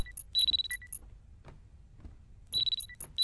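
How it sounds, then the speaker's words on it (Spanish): A small alarm clock in a video game rings in short bright metallic bursts, two rapid clusters of trilling chimes separated by a quieter gap with faint thuds, heard alone without talk. "Esa pequeña alarma nos estaba avisando que tenemos que ser directo"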